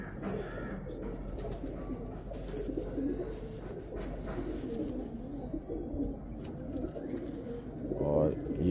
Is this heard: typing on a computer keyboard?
no